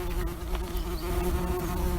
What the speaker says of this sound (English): there's another bee